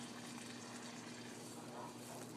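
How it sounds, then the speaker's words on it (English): Two cups of water poured into a pot of rice, a faint, continuous splashing rush with a steady low hum underneath and no voices. "Then what you do is you go ahead and add your 2 cups of water."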